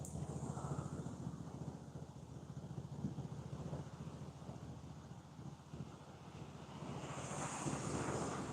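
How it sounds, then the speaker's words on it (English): Steady wind blowing across a lake during a carp fishing session, a broad continuous rushing that swells toward the end, with no talk over it. "That wind's picking up again."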